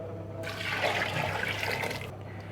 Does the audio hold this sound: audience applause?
no